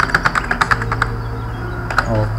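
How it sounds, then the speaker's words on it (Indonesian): Quick bursts of keystrokes on a computer keyboard, about ten clicks in an irregular rhythm, then a pause and a couple more taps while a low hum runs underneath. "Daripada copy paste lebih cepat ngetik."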